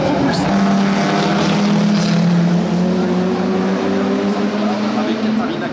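Historic Maserati A6 GCS race cars roar past at the Monaco Grand Prix Historique, with a loud, continuous engine drone whose pitch climbs steadily as they accelerate.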